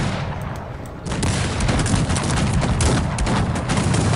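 Cannon and musket fire in the strategy game Cossacks 3, a dense, loud battle din of overlapping gunshots and booming volleys that rolls on continuously with no pause.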